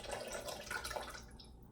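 Squeezed juice of one lime is poured into a watermelon mint rose sangria, a quiet close trickle and splash of liquid into the mix for over a second before fading.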